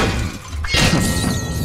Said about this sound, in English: Smashing all the dishes.